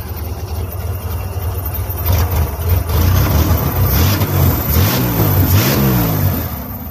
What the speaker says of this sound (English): Runs a little choppy at idle because it's got them, you know, super duper awesome hardcore 19-pound injectors in there